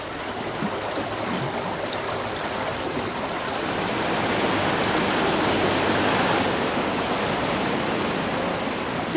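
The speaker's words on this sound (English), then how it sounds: "the clear water comes out through these channels and flows out there onto the rest of the works" Steady rushing water flows continuously at close range through outlet channels at a water treatment works, a broad hiss that swells slightly louder halfway through, with no voices.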